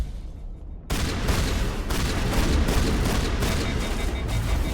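Heavy shotgun fire in Mass Effect during combat, a dense roar of booming blasts and battle noise that kicks in suddenly after a quiet start and keeps going loud and continuous.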